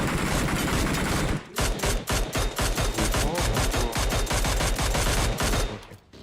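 Rapid automatic gunfire in a PUBG Mobile esports montage, loud sustained bursts of machine-gun shots in quick rhythmic volleys lasting several seconds before tapering off at the end.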